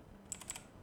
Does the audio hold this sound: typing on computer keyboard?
yes